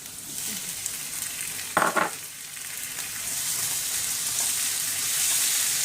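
Onions fry in a pan for masala potatoes, giving a low continuous sizzle with one brief clatter of stirring partway through, the hiss growing slightly louder toward the end.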